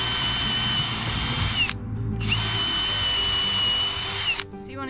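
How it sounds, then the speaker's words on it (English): Two close bursts of a power drill whirring at high speed, drilling holes of various sizes for a bug hotel, separated by a brief pause, the second one winding down at the end. "This is where your drill bits and your drill really come in handy."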